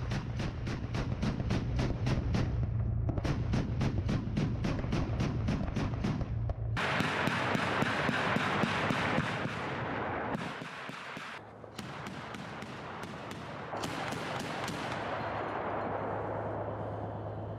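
A BMP-2 infantry fighting vehicle fires heavy rapid bursts, rhythmic strings of loud reports broken by brief pauses, then resumes in a continuous stream with no voices over it.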